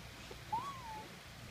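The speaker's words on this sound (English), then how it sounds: "Bird outside." A single bird calls outdoors on a rainy morning: one short, thin whistled note that rises and then falls away, faint and distant, against quiet background noise.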